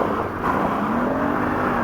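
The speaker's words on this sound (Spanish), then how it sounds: "la moto va derrapando, va de lado a lado, neumáticos no agarran muy bien esta superficie" A VOGE 900 DSX motorcycle rides off-road on a loose surface, its engine humming steadily under wind rush and the rumble of the tires, with no break in the sound.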